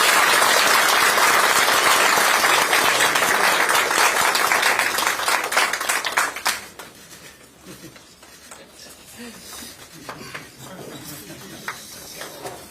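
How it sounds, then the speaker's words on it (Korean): A political party meeting audience bursts into loud, dense applause that runs for about six seconds. It then drops to scattered lighter claps and murmuring, with faint background noise. "격려의 큰 박수 좀 부탁드립니다"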